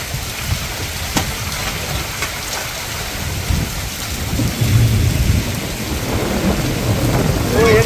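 Heavy rain pours down during a city downpour in Gujarat with flooded streets, a steady hiss of drops on surfaces swelling louder toward the end, while rumbles of thunder roll underneath and sharp crackles punctuate the first half.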